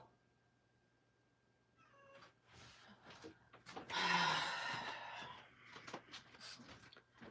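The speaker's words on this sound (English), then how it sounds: "I don't know what this cat is meowing about" A house cat meows indoors, several rising and falling calls of varying length, one drawn out and louder, with small knocks and handling noises around it.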